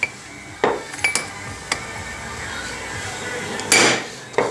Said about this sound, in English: Couple good, really hard whacks with this thing and it should pop out.